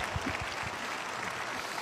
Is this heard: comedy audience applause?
yes